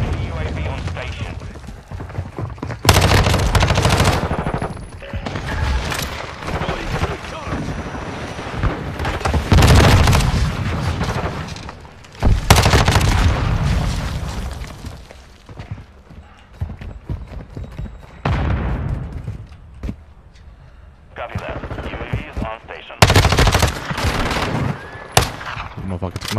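MP5 submachine gun fire in the Modern Warfare 2 beta on PC: repeated loud bursts of rapid automatic shots separated by short gaps, with game noise between them.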